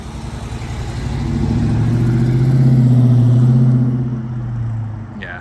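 Dodge Challenger R/T HEMI V8 accelerating past outdoors on a windy day, a loud, deep engine roar that climbs to a peak mid-pass and then fades as it moves away.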